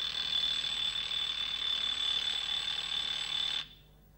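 A plain round, chubby alarm clock rings with a steady high-pitched metallic bell trill, loud and continuous for about three and a half seconds before stopping abruptly.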